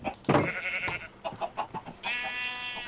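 A Minecraft sheep bleats in a few short, nasal, wavering cries close up, one near the start and a longer one at the end, with faint game noise between and no talking.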